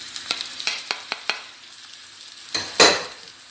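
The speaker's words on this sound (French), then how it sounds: "Dans un wok ou dans une poêle, je vais faire chauffer un petit peu de l'huile d'olive. Je vais ajouter les oignons." Onions going into hot olive oil in a wok, giving a string of short stirring clatters and scrapes followed by a louder burst of sizzling near the end, close and with no talking.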